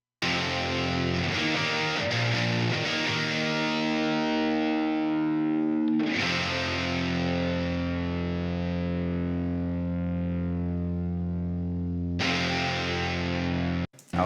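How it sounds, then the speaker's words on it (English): Two heavily distorted electric guitars panned left and right chug through thick power chords, loud and continuous with brief breaks between phrases. "we'll listen to both of those guitars in the stereo version"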